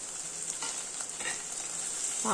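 Sliced ridge gourd and carrot fry in a pan while being stirred, a soft, continuous sizzle with light scraping strokes and small bursts of crackle, no one speaking.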